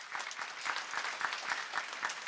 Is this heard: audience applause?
yes